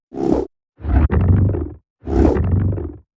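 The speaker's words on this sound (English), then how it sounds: "wind wand recordings through a load of distortion to make them super fat and powerful in the low end" Three heavy, distorted roaring bursts with a deep, growling low end, the middle one split by a sharp crack, separated by brief silences.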